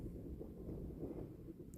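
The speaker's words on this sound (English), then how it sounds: "Getting very windy up here" Wind blowing across an open hilltop in the Quantock Hills near a cairn, a faint, steady low rumble of buffeting air with no one speaking.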